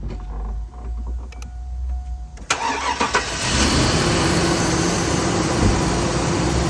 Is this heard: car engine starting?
yes